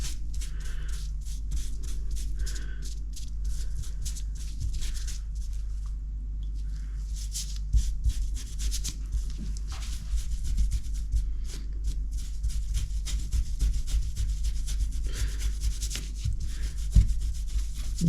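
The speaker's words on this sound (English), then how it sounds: "it's just a case of just scrubbing it in with an old brush" An old brush scrubs white spirit into fake fur, a close, steady rubbing and scratching that runs continuously over a low background hum.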